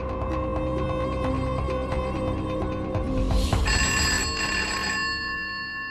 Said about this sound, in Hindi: देख तो सही फोन पे कौन है